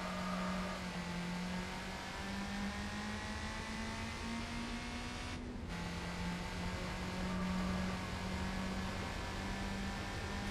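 Mazda Miata engine droning at steady revs while driven in the Gran Turismo 4 racing game, with one brief gear-shift dip midway and a constant close engine tone throughout.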